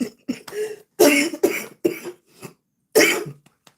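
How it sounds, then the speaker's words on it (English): A person coughs repeatedly in a series of harsh, close bursts, some in quick pairs, separated by short silent pauses. "I've been coughing a lot."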